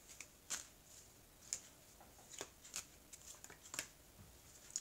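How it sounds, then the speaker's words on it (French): Tarot cards are cut and shuffled close by in a quiet room, giving soft riffling flicks and light slaps in irregular short bursts, faint and alone. "Et je vais étaler les cartes."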